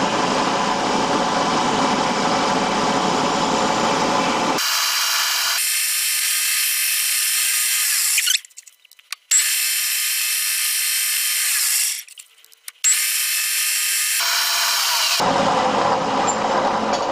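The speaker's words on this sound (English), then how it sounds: "So this is a 7mm drill," A 7mm drill bit bores holes in an aluminium WW2 windscreen bracket: loud, continuous machine whirring in long bursts, broken by several abrupt stops and restarts, heard close.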